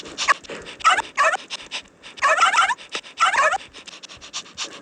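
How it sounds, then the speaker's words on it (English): A dog lets out several short, high yipping barks in quick clusters, with brief pauses between bursts. "Then, suddenly, Steve, which was his dog, and started barking"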